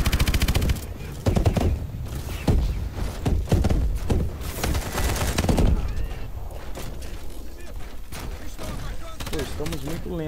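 Rapid bursts of automatic machine gun fire in the video game Call of Duty: Advanced Warfare crackle loudly amid game sound effects and explosions, firing in repeated volleys throughout.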